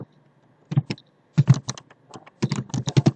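Fast, close keystrokes of someone typing an SQL insert query into a student table on a computer keyboard, arriving in three distinct bursts of crisp clicks separated by brief pauses.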